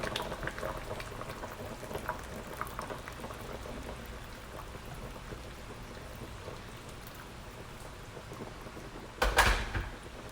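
Cow foot simmering in a pot of water on high heat, a steady soft bubbling and popping throughout, with a brief louder clatter near the end.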